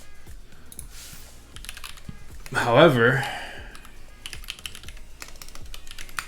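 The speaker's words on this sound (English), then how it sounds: "This is gonna be my Ibis keyboard." Steady typing on a custom Ibis computer keyboard, a run of close key clacks that continues while someone talks briefly in the middle.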